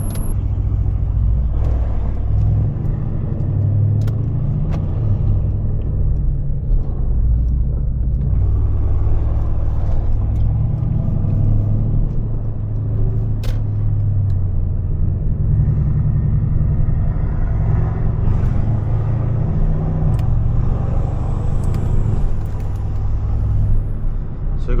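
Deep, steady engine rumble from a cruise of Mercedes-AMG C63s, an S63 and a Porsche, loud and continuous throughout with low drone filling the road noise, heard from inside a car.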